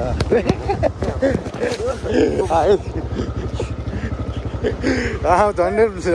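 A new Crossfire RM Z250 motorcycle pulling out from a showroom in Nepal runs with a low, steady engine throb while people talk loudly over it throughout.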